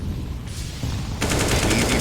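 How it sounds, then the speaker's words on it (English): Desert Eagle gunfire in a Counter-Strike competitive match comes as loud, dense game gunfire and explosive noise throughout, growing harsher and more intense partway through. "Deagles on the hands of Lavender. They're going to eat a quick grenade. 50 damage to Classic"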